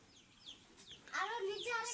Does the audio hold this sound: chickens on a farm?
yes